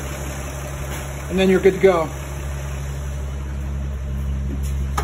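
A 1950 Chevy engine idles steadily with a low, even hum throughout, close to the recorder, while a person speaks briefly over it near the start.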